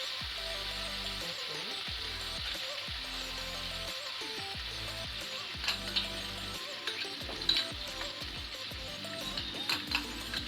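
Mutton fries in oil in a pan as masala is added, with a steady close sizzle, occasional clinks of a utensil against the pot and stirring noises.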